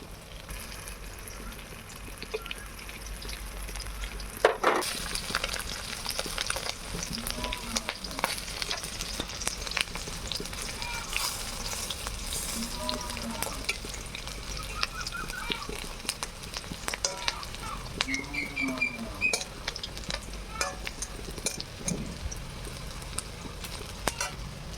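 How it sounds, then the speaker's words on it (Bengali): Fish roe fries in a pan in a village kitchen, a quiet continuous sizzle broken by occasional scraping stirs, while farm fowl honk faintly in the background. "আমি সবগুলো মাছের ডিমই একসাথে ভেজে নেব"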